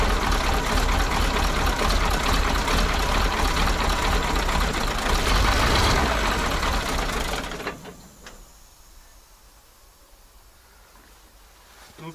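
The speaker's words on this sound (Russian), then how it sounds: "Первый запуск состоялся, мотор работает мягко" A heavy engine of a rare Georgian KAZ 4x4 truck runs loudly on its first start with a steady mechanical rumble, then drops abruptly to a quieter, softer idle for the remaining seconds.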